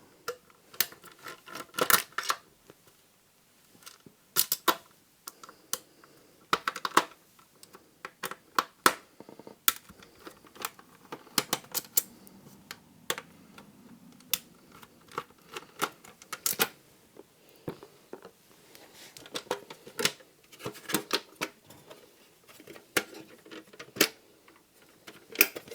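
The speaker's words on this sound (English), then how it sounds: "we'll remove the four screws at the bottom of the drive" Small metal screws being worked loose from the bottom of a Philips DVD drive from an original Xbox, heard as close, irregular ticks, clicks and scrapes of a screwdriver with short pauses between bursts, no talking.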